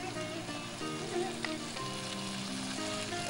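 Chopped tomatoes hit a hot pan while chicken pasta is cooked for kids, giving a continuous, even sizzle and crackle throughout at moderate loudness.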